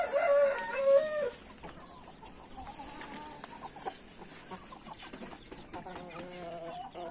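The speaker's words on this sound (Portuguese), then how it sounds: "Quando vê um frango novo assim, eles soltam o canto" Young white-legged roosters crowing in a backyard coop, one crow loud and close at the start, then fainter crowing and clucking in the background.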